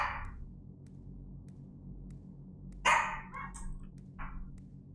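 Household dogs bark a few times from somewhere nearby, one sharp bark at the start, then a loud cluster of barks and yips later, over a quiet background with no talking.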